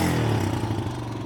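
A 1997 Kawasaki Mojave KSF250 ATV engine in good running order revs steadily and loudly up close, a brief rough mechanical drone with no voices.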